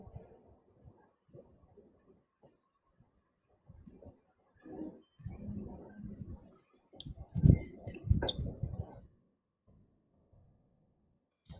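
A computer mouse clicks while an online form is filled in, with quiet scattered clicks early on and a denser cluster of sharper clicks near the end, all faint and close.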